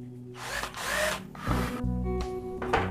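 A Xenon 12-volt cordless polisher whirs steadily up close at speed 2, its motor hum wavering in loudness over a few seconds with no one talking.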